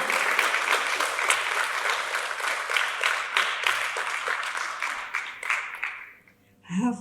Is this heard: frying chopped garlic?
no